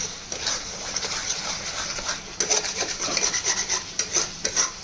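Spice masala for Hyderabadi paneer is stirred and fried in a pan, a continuous close sizzle with rhythmic scraping strokes of the spoon that grow louder in the second half, no talk.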